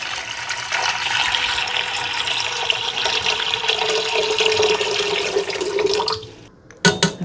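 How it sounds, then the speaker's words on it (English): Plain filtered water pours steadily into a pot of soaked beans and grains for a vegan lentil soup, a loud continuous gushing that runs for about six seconds, then cuts off into a brief clatter. "Next up, I'm gonna add just some regular old filtered water."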